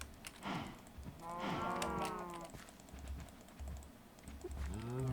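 Cows moo in the Minecraft video game, two or three drawn-out synthetic lows over quiet keyboard typing and clicking, moderately loud and close.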